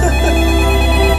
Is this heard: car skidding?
no